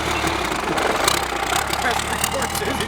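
A Cummins diesel truck engine rumbles steadily as the truck pulls away on the salt flats, a loud continuous drone with mechanical knocking.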